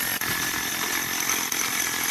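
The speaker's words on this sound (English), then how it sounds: "the biggest tip I can give you about a hammer drill is keep drilling" A hammer drill bores steadily through a concrete curb, a loud, continuous grinding roar close by with only two brief dips in power.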